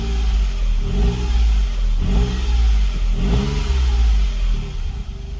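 Smart car engine, fitted with an upgraded engine ground, revs up and down in three quick throttle blips over a steady idle drone, close and loud with no talking.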